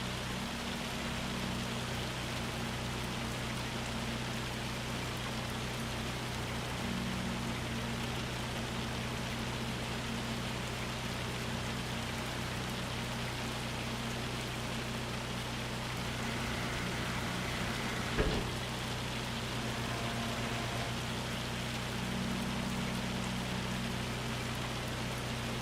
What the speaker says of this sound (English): This looks like hail.